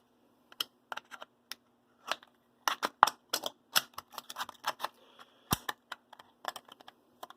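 Hand scissors snip through thin oyster tin metal for a scratch-built model diesel locomotive fan, giving a quick run of sharp, close, dry clicks and crunches in irregular bursts, with no voices.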